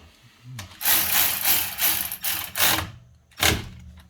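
A Milwaukee power tool tightening the front brake caliper bolts on a 2.4-liter Hyundai Sonata, firing in several short whirring bursts with pauses between, close by and fairly loud.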